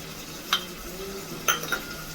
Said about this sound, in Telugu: మొత్తం మిక్స్ చేసుకోండి.